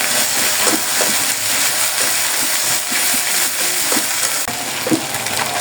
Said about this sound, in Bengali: এখন আমি দিয়ে দেবো আদা রসুন বাটা।